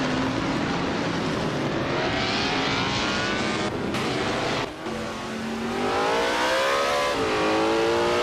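A 1958 Lotus 16 racing car engine drones loudly and steadily, its pitch rising and falling through gear changes with a brief dip near the middle, close and continuous with no talk.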